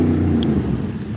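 Steady road traffic from many cars in a jam, a continuous low rumble with a brief higher hiss near the start, heard alone without talk.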